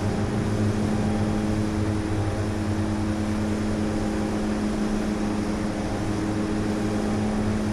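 A DHC-6-300 Twin Otter in the FSX flight simulator runs both engines near takeoff power, producing a steady, loud propeller drone with constant tonal hum throughout and no voices.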